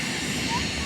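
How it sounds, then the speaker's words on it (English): A private jet flying overhead, a loud steady engine roar filling the brief moment, with a person talking over it. "Watching airplane. Guys, it's going, guys. It's so loud."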